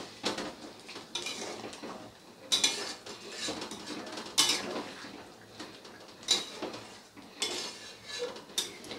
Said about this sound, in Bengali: এবারে খুব ভালোভাবে